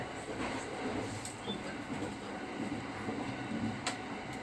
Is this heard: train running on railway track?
yes